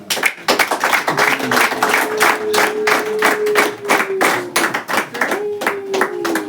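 Guests at a wedding in Kigali clap together in a steady rhythmic beat, close and loud. A sustained singing or humming tone rises over the claps in places.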